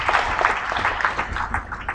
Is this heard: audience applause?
yes